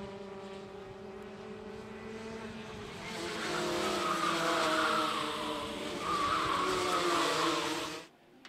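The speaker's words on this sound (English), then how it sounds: "Now, we're going to look at some high-performance go-karts." High-performance go-karts race on a track, their engines buzzing and droning as they pass, rising to a louder sustained whine midway before cutting off abruptly at the end.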